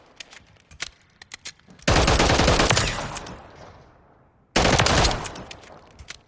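Full-auto bursts from a CAA RONI carbine conversion firing .45 ACP in Call of Duty Modern Warfare III: after a few scattered light clicks, two long, loud, rapid-fire strings of gunfire ring out back to back with brief tails.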